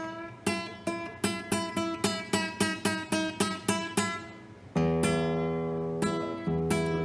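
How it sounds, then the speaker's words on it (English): A single guitar string plucked about a dozen times in steady rhythm while being tuned, then two fuller ringing strums that sustain. "So I can make the guitar change sound like this."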